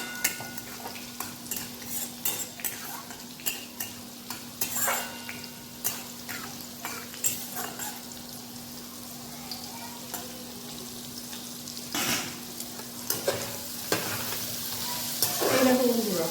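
Panch phoron spices and a dried red chilli fry in hot oil with a busy sizzle, punctuated by repeated scraping stirs and clinks of a spoon against the pan, and a steady hum beneath.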